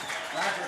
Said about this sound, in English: Nice lively crowd here at Denham Springs